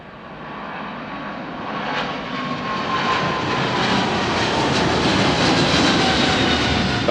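A fixed-wing jet aircraft on the runway at London Heathrow Terminal 5, heard from a nearby hotel viewing deck, roars with a broad engine rumble that builds steadily and stays loud and sustained.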